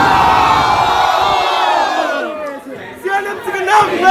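A large college crowd at CNMC during the INGENIUM'23 fest cheers and shouts loudly in unison, a dense roar that thins out into scattered whoops and excited yells toward the end.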